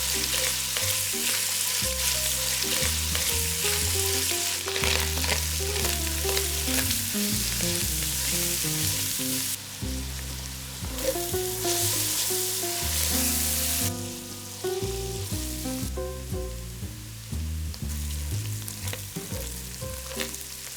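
Vegetables for a Bolognese sauce sizzle in a hot pan with browned meat fat, a steady loud crackle broken by stirring scrapes and clatters from a spoon.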